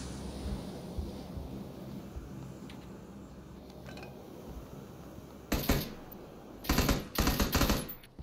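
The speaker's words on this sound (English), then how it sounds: "burst fire on the M16 is a bad shit, seriously" M16 burst-fire gunshots in the video game PUBG, sharp short bursts heard in a few quick groups late in the clip, loud and close after a quieter stretch of background noise.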